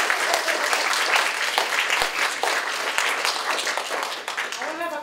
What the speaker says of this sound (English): Why don't we do the round of applause first?